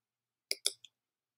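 Mouse clicks while assigning work in Google Classroom: two quick close clicks followed by a softer third, crisp and isolated against silence.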